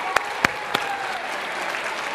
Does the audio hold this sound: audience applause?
yes